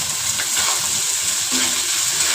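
Fried rice sizzling in a frying pan with steady frying hiss throughout and faint scraping of a spatula stirring it, close by and moderately loud.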